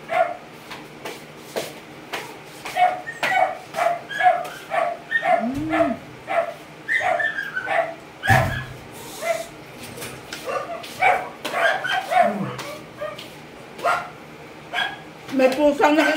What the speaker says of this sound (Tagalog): Natahol ng aso